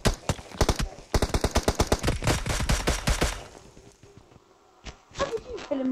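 Rapid automatic gunfire in an online battle-royale shooter game, two loud staccato bursts of closely spaced shots followed by quieter scattered reports and brief game noises, with no speech over it.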